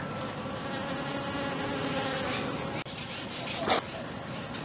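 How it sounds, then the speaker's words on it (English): A dense, steady buzz of many bees fills the air close by, continuous throughout with a brief louder swell near the end. "I had no idea we still had this many bees alive."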